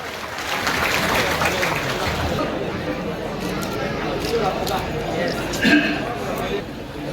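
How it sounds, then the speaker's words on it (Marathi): Crowd at a Shiv Sena party-induction gathering in Maharashtra applauds steadily, a dense wash of clapping with scattered voices and chatter mixed in, heard from within the audience. "एकदा जोरदार टाळ्या मनापासून होऊन जाऊ द्या."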